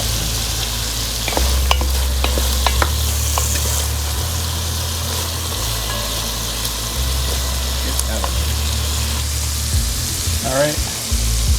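Herbes de Provence get stirred into a pot of braising beef ribs and mushrooms for a Marsala braise: a loud, close sizzle with scraping and clinking stir strokes throughout, a brief low hum beneath.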